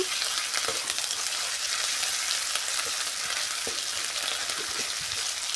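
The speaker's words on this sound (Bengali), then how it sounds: "আদা রসুন পেস্টটা দিয়েও ভালো করে ভেজে ভেজে নেব।" Ginger garlic paste fries in a pan with a constant, loud hissing sizzle and scattered small crackles, close and unbroken throughout.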